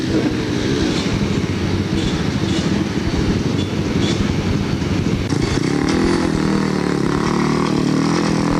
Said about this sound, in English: Oh, come on, Phil, put it in gear and go.